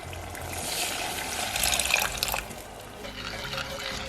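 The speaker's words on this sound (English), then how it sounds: "we're going to pour in some water" Water pours steadily into a BBQ wing sauce mixture with smoked paprika and garlic granules, a continuous splashing trickle with a brief louder gush in the middle.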